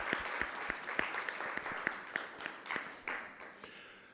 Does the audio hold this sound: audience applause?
yes